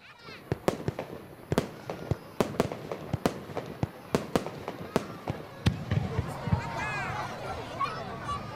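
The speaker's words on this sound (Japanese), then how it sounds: "迫力ある花火が一発打ち上げられるたび、観客からは歓声が上がっていました" Festival fireworks at a peach blossom fireworks show, a series of sharp, loud launch bursts and booms at irregular intervals, with crackling and a crowd cheering and murmuring underneath, growing busier toward the end.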